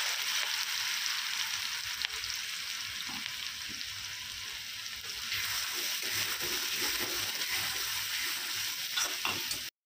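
Cumin and a green spice paste sauté in hot oil for baingan bharta, giving a steady, close hiss of frying with faint stirring throughout and no speech.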